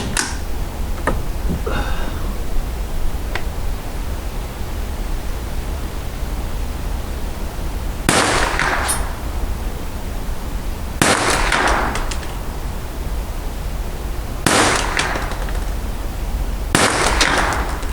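Rifle gunshots fired while field testing and calibrating an NV3000 night vision monocular scope, about five sharp cracks spaced several seconds apart over steady wind-like hiss outdoors, with no talk.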